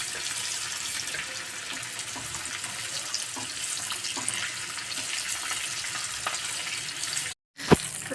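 Cauliflower pieces for a cauliflower chop fry in a pan, a steady close crackling sizzle running throughout with no talk, briefly cut by a moment of silence near the end.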